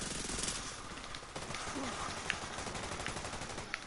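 Rapid bursts of automatic gunfire from The Division 2, apparently in the Dark Zone. The shots form dense, sustained crackling over a busy game soundscape, with a few sharper reports standing out.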